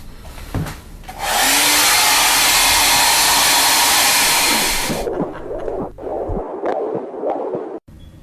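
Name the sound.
drying wet paint on a painting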